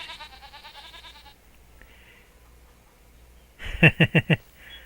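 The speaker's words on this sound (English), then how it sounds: "Goats are doing very well." Goats in Farming Simulator 25 bleat twice: a long wavering bleat at the start, then a pause and a sharp, stuttering series of four quick, loud bleats.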